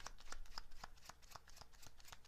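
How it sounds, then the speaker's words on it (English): Tarot cards riffle and shuffle in a quick run of crisp, papery flicks and taps, close and fairly quiet, with one card slipping loose partway through; no talk. "Oops, this card's falling down."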